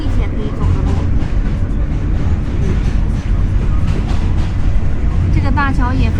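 A New York subway train runs near the Brooklyn Bridge with a loud, continuous rumble of wheels on track, and a metallic squeal rises near the end while people talk over the noise.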